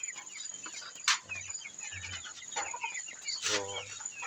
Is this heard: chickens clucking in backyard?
yes